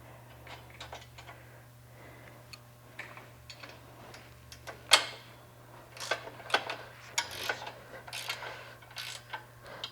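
An 18 mm wrench tightens the U-bolt nuts on the three-point hitch of a Wizard precision vacuum planter, giving faint, irregular metallic ticks and clicks over a low steady hum, with a few sharper clinks partway through.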